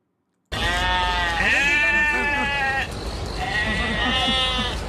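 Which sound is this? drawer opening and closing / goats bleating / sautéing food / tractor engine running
goats bleating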